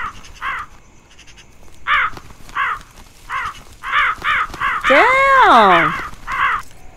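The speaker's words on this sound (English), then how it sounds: "I think this should solve the problem with the crows" Crows caw repeatedly in a horror video game, loud harsh paired calls in an uneven rhythm, with a longer, wavering burst of overlapping caws near the end and a man exclaiming once.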